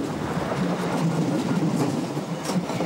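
A DB Class 628 diesel multiple unit train running, a steady rumbling rail roar with faint rhythmic wheel clatter, fairly close and continuous with no talk.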